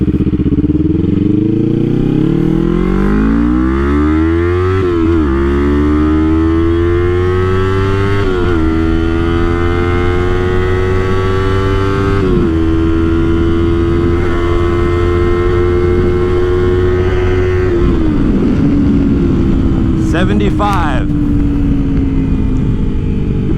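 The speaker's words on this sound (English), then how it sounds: "let's see what this little Ninja 300 can do" A 2016 Kawasaki Ninja 300 ABS with an enlarged sprocket accelerates hard, its engine wailing upward through four or five gear changes, each marked by a sharp dip in pitch, loud and close, before backing off near the end.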